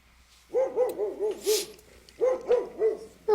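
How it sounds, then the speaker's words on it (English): In a tabletop game a dog sound effect plays: two bursts of rhythmic barking, four or five barks each, clear and fairly close, with a short gap between them. "Then he starts barking."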